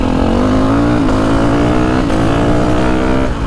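A Ducati 450 Desmo 450MX dirt bike engine holds a loud, steady high-revving drone up close, with brief dips where the quick shifter cuts the throttle during upshifts.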